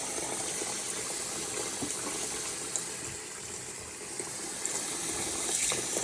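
Tap water running steadily into a basin to soak a hand-knitted Noro intarsia scarf, a close, continuous gushing stream with a slight dip midway and no talking.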